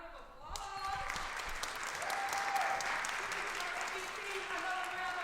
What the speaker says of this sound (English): Can we give Madison another round of applause?